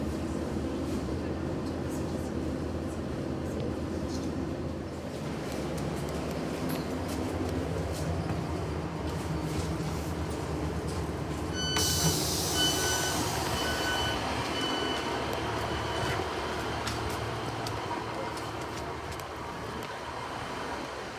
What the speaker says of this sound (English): here is my next train arriving to take me 2 stops up the line to Camborne